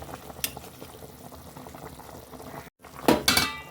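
Tomatoes being mashed and stirred into a simmering pot of curry with potatoes and stinging catfish: soft bubbling and scraping throughout, then a few sharp utensil clanks against the pot near the end, no talking.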